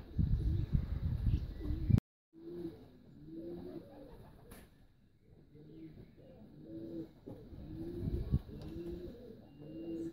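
Racing pigeons coo at the loft after a prize flight, a soft, repeated rhythm of low throaty calls spread through the clip. Faint rustling and handling noise sit under them, with a loud burst of noise at the start.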